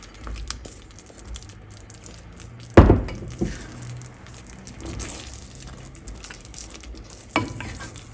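Chicken frying with white rice in a pan, a steady sizzle under scraping stirs, with a sharp clatter of utensil against pan near the three-second mark and another near the end.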